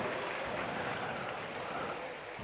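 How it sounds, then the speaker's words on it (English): Children and adults at an abacus and arithmetic competition prize ceremony in Chennai clap together for their teachers, a thick, continuous rush of many hands filling the hall, steady and fairly loud, easing slightly near the end. "A big clap for your teachers."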